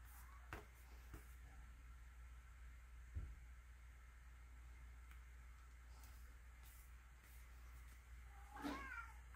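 A cat meows a few times, faint and somewhat distant, with short calls spread across a quiet indoor room and a clearer meow near the end.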